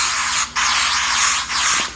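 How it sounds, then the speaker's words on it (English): Makeup setting spray hisses onto a face in two bursts of fine mist, each a loud, close, sustained spray lasting about a second, cut by a brief pause. "So now I'm just going to go ahead and spray the other side of my face."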